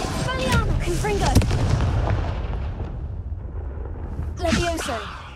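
Spells in Hogwarts Legacy fire off as booming, crackling blasts and bursts in quick succession, with a voice shouting incantations over the continuous magical explosions.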